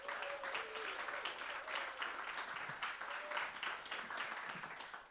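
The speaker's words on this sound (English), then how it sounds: "can you have a big round of applause for our last piece of entertainment" An audience at an Edinburgh Festival live show applauds to welcome comedian Stuart Laws, a continuous, moderately faint wash of clapping with a few whoops over it.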